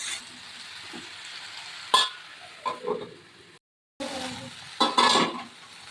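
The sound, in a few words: stirring vegetables in pot for Bengali sukto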